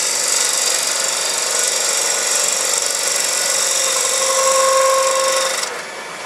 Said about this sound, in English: That's slicing wood